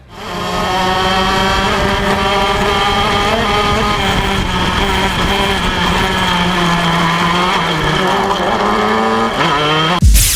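A shifter kart's racing engine drones loud and close for about ten seconds, its harmonic whine rising and dipping slightly as it holds high revs, then cuts sharply at the end.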